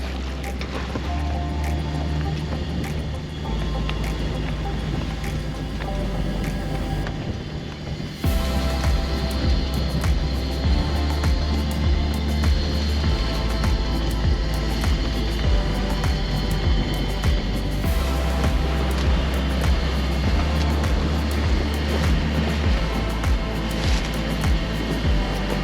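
A sailboat's engine runs under throttle while motor sailing in light wind, a loud, steady low drone with continuous water and wind rush over the hull, unbroken throughout with no voices.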